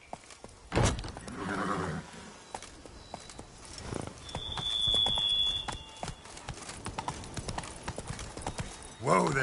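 Roach the horse from The Witcher 3 trots with close, steady clip-clop hooves, with occasional snorts and a whinny, and a brief high tone sounds in the middle.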